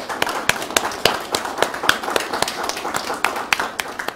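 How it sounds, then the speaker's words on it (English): Scattered, uneven hand claps from a small audience at a dairy science symposium, a thin round of applause for the speakers with individual claps standing out, fairly near and moderately loud. "let's give a final round of applause for our speakers today"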